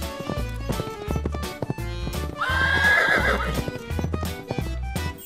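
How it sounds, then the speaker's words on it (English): A horse whinnies loudly in the middle of a rhythmic clip-clop of hooves, set over a bouncy repeating children's music backing. "H is for horse."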